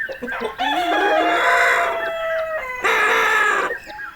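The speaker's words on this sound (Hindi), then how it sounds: "मुर्गा कुकरों करता है" A rooster crows loudly and close by in a long drawn-out call, then gives a second shorter crow after a brief pause.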